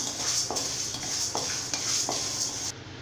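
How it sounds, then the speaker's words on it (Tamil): Moong dal being dry-roasted in a pan, stirred with a utensil in about four scraping strokes over a steady faint sizzle. "இப்போ பாசி பருப்பு வந்து நல்லா வறுத்துக்கலாம்"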